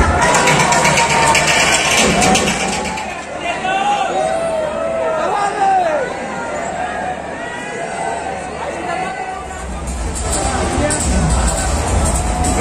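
A large crowd fills Parsada cricket stadium in Raipur during a live South Africa match, producing a loud, continuous murmur of chatter and occasional cheers, with a voice talking over it.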